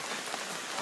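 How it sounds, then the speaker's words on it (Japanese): Typhoon rain falls steadily outdoors during a water balloon battle, a dense, even hiss of drops striking surfaces up close with no voices heard. "おーっとここで雨が弱まってきた。"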